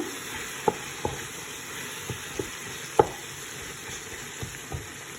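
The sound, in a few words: onions, potatoes and spices frying in a pan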